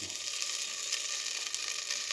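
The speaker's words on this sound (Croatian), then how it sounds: "Tu se malo prepržimo" Blended parsley, celery, rosemary and sage frying in oil in a pan as a bolognese base, with a steady, soft sizzle and crackle that continues throughout.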